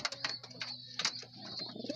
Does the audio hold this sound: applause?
no